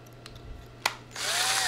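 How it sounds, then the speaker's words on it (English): A power drill fitted with a cut-off nail bores a pilot hole during sofa frame assembly, a short tap and click followed by the drill spinning up into a loud, steady whir. "Because you can put it in a drill"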